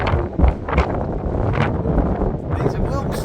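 Wind gusting outdoors on a seafront in Fleetwood, with a sign on an old pole flapping and rattling in the wind, steady buffeting noise throughout and people talking over it.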